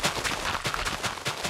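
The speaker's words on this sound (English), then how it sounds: "that's the matter cannon. It can be used for fighting, but it cannot dig through everything." Matter cannon from the Applied Energistics Minecraft mod firing in a rapid series of sharp, punchy blasts, about eight shots in quick succession, loud and close.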